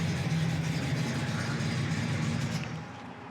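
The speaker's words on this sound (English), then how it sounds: "It's got a great running, numbers matching 350 rocket" A 1971 Oldsmobile Cutlass Supreme with a numbers-matching 350 Rocket V8 and four-barrel carburettor idles with a steady, even low rumble that fades slightly at the end, with no talk.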